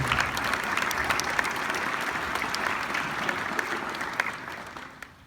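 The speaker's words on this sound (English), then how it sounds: "So just a real quick round of applause for Becky." Steady applause from a school audience honoring a speaker at a National Junior Honor Society event, a dense wash of many hands clapping at even loudness that thins slightly near the end.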